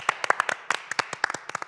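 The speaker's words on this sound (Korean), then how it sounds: "박수 주자." A small group of people clap hands in an irregular, uneven patter of sharp claps for about two seconds, close by, with no talk.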